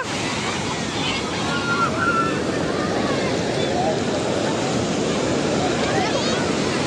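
Ocean surf rolls and breaks along Puri sea beach in a continuous roaring wash, close and steady with wind buffeting the microphone and faint distant voices mixed in.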